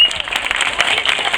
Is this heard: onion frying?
no